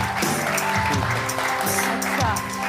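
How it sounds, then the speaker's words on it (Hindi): A studio audience applauds on a Pakistani entertainment show as a guest is welcomed up, with steady, dense clapping throughout over background music and crowd noise. "तालियां बजा दें इनके लिए"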